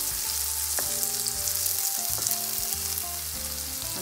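Lady's finger (okra) and onions frying in very little oil, browning, with a steady, close, continuous sizzle throughout and background music underneath.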